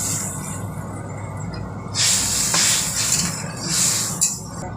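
Hot masala sizzling as water and fried paneer are added, a loud burst of hissing steam that swells, dips and swells again over a steady background of frying.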